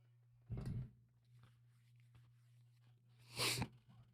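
Two sharp, close sneezes burst out about three seconds apart during a live Sixers versus Bulls basketball play-by-play stream, with a steady low electrical hum underneath and no talking.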